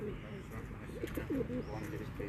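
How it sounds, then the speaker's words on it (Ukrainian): Soft, low pigeon coos repeat in short murmuring phrases under quiet background chatter in Zhytomyr, close by and gentle. "Чи це голубка, така маленька, класна."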